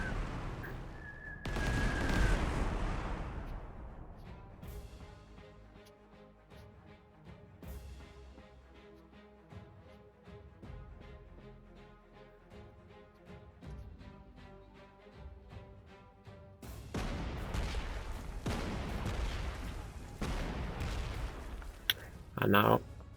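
Artillery shelling strikes a unit in the World War II strategy game Panzer Corps 2, giving repeated booming impacts and a loud crackling burst at the start and end, with a quieter, busier stretch of game sound in between.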